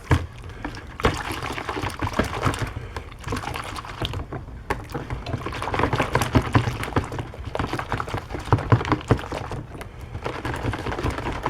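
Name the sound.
air filter sloshed around in soapy water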